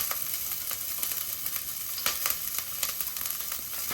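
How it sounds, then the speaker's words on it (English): Jalapeno and garlic hit smoking-hot olive oil in a pot, giving a loud, steady close-up sizzle with crackling pops and brief stirring sounds, no voices. "that olive oil is nice and hot. My pot is smoking here, so we're gonna go ahead and get that jalapeno in there"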